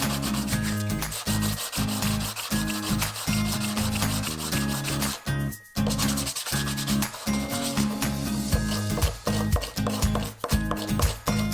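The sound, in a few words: sanding leash plugs by hand with sandpaper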